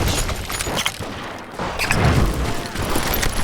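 Gunfire in the Western video game Call of Juarez: Gunslinger, with rapid, sharp shots and booming reports scattered over a few seconds against a dense, noisy game soundtrack.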